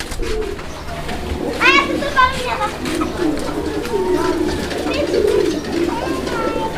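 Lahori, Sirazi and Koka pigeons coo close by in soft, throaty calls, while other birds chirp and a voice talks faintly underneath.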